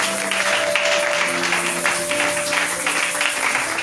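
A church congregation claps and cheers together during a worship service, a steady, dense wash of applause that runs the whole time with no pauses.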